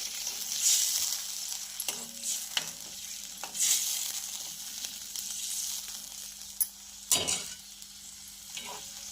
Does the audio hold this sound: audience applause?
no